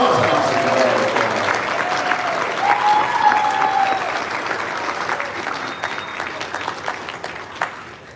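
Steady applause from a crowd, loud at first and gradually thinning to scattered claps, with a few brief voices and whistles.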